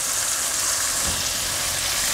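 Tomatoes with spices, salt and a splash of water sizzle steadily in a hot pan for masala rice, a continuous close frying hiss with no talking.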